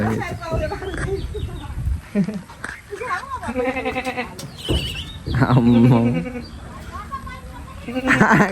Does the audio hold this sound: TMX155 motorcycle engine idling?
no